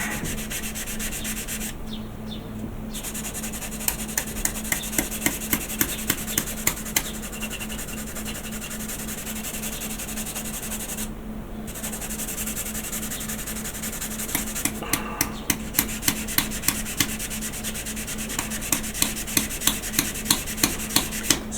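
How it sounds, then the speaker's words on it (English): Sandpaper rubs steadily back and forth in one direction across wood, with a rhythmic rasping that pauses briefly a few times. The workpiece is a wooden Doctor Who Tardis model getting its filled gaps smoothed. There is no talking. "And just keep sanding it away."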